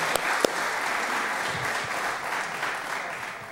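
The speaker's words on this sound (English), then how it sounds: "I think you should give yourselves a round of applause." Sustained applause from an audience at a volunteer awards ceremony, steady dense clapping throughout with a couple of sharper claps near the start.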